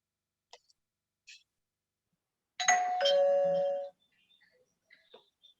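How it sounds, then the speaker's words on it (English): A doorbell rings once, a bright sustained two-tone chime lasting about a second with faint small clicks and movement before and after, in an otherwise quiet room. "it is very unlikely for the bells to ring at two places at the same time"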